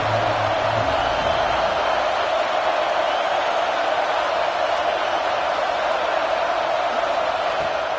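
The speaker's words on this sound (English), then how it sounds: "Here comes the noise from this big crowd in Happy Valley on third down." Steady roar of a large stadium crowd at a Penn State home game in Happy Valley, swelling on third down in a college football video game, a dense continuous wash of noise with no distinct voices standing out.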